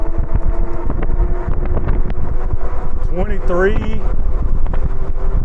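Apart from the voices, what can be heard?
strong headwind while riding an e-bike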